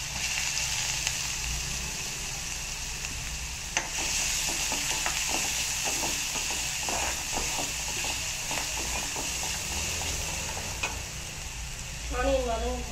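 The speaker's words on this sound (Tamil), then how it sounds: "இப்போ நம்ம கடுகு நல்லா வச்சுட்டு ஆனியன் ஆட் பண்ணிக்கிறோம்." Sliced onion goes into hot oil with mustard seeds and urad dal, giving a loud, steady sizzle under rhythmic scraping of a spoon stirring in the pan, close by, with faint voice near the end.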